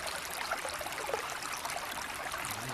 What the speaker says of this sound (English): Water in a stream.